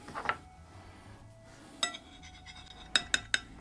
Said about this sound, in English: Oh, I'm going to have to spoon it on.